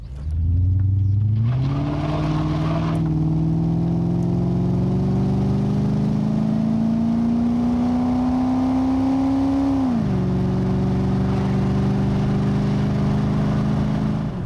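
A 1985 Aston Martin V8 accelerates hard in first gear, a loud, sustained engine roar rising steadily in pitch for several seconds before a drop as it changes gear, then continuing to pull, heard close from inside the car.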